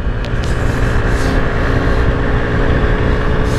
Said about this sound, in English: We've been riding mopeds with Phil all day.